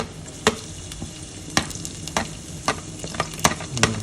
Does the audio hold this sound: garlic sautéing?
yes